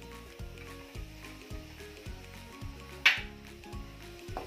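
Onion and green chili sizzle in a pan for hot and sour vegetable soup, a quiet steady frying hiss with light stirring scrapes and one brief louder spatter near the end.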